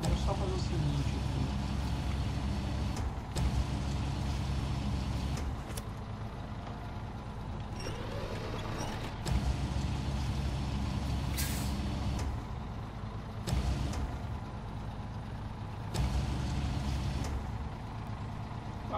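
A truck engine in the SnowRunner video game rumbles steadily throughout, with several sharp air-brake hisses breaking in at intervals while someone talks over it.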